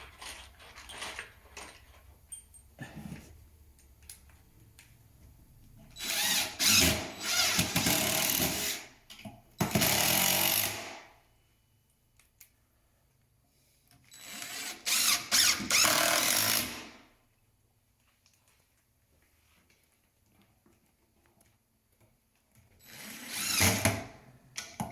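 A power drill drives a screw into a cabinet in three loud bursts of whirring separated by quiet pauses, close by and without talk.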